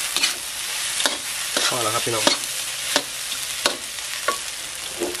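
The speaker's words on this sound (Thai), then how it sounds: "ผัดคะน้าหมูกรอบครับบ่อย" Kale and crispy pork stir-fried in a wok, a steady loud sizzle with repeated scraping strokes of a spatula at irregular intervals, close up, with a brief spoken remark over it.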